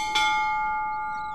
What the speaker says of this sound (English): that's the bell from Hines